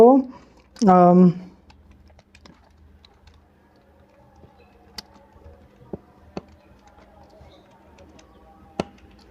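Registration number being typed on a computer keyboard, a handful of sparse, separate key clicks spread over several seconds after a short burst of voice, close and clear against a quiet background.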